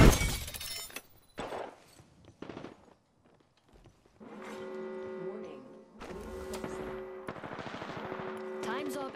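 Apex Legends gunfire rattles out in short, rapid automatic bursts, loud at first and then more scattered. Later come sustained tonal game effects with in-game voice lines over them.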